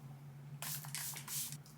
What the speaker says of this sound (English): I'm just going to pop a little bit of a setting spray on now, like a nice dewy one